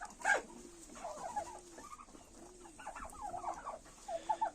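Bronze and red turkey hens cluck in a poultry yard, with soft repeated clucks and short calls coming in irregular bursts at moderate distance, and no talking.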